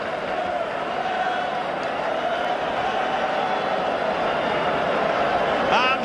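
The stadium crowd at a 1994 New Zealand versus South Africa rugby test roars steadily after the All Blacks clinch the series, a broad, constant far-off din beneath a commentator's voice.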